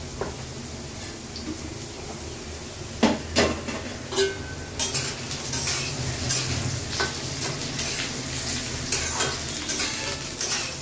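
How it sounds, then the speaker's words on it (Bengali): Potatoes fry in a pan, with a steady sizzle under repeated stirring, scraping and metallic knocks against the pan, fairly close and continuous, with no talking. "আলুটাকে ভাজতে হবে একটু।"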